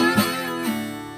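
A single acoustic guitar strum rings out, with bright harmonics that sustain and slowly fade, followed by a softer second stroke.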